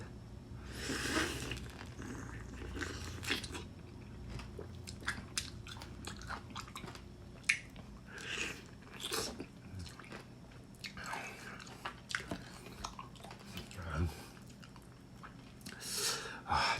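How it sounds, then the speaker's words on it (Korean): Someone eats lime with its peel on, producing close, wet biting crunches and squishy chewing in irregular bursts throughout, fairly quiet with no talk. "껍데기째 먹어보겠습니다"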